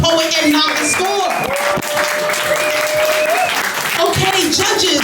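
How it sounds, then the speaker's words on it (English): A poetry slam crowd applauds a poet after a group piece is scored, loud sustained clapping and cheering filling the room, with voices calling out over the ovation and a few tonal shouts riding on top. "Please clap it up for the poet and not the score."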